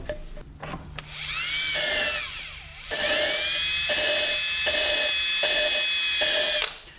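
A power drill spinning an engine valve whirs in sustained bursts with rising and falling pitch, a steady mechanical whine close by, with short pauses between runs.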